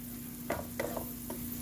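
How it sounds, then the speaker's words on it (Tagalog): A chicken, mushroom and rice casserole stirred in a pan, with a faint background sizzle and a few brief scraping strokes of the utensil, quiet and close, with no voices. "Keep on stirring"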